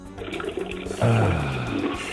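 Urinal flush in the DOS game Duke Nukem 3D, a short rushing gush of water that swells suddenly partway through and then drains off, loud and close, with no voices.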